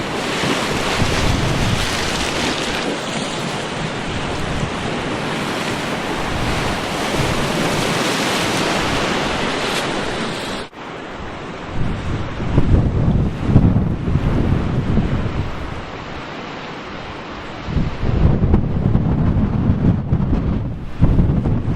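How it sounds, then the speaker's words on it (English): Waves crash steadily onto a windy shore, with heavy gusts buffeting the microphone. The surf roars continuously and swells in repeated loud surges, with no voices. "Waves are crashing in pretty good today."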